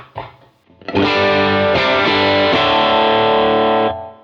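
A distorted electric guitar on the bridge pickup rings out a sustained chord with a bright, thin, trebly tone, struck a few times after a brief opening pluck, close and loud.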